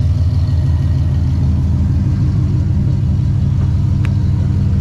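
A Dodge Charger 392 Scat Pack with headers and nitrous, its V8 rumbling at a steady idle, loud, deep and close, with no talking over it.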